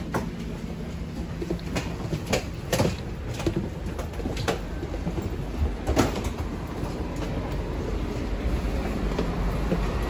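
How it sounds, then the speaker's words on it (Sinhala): A double-decker train stands at a station in Miami, with a steady rumbling hum, rattling and scattered sharp metallic clicks and clunks over the continuous loud noise. "මෙන්න මේක මෙහි තට්ටු දෙකේ ට්‍රේන් එකක්"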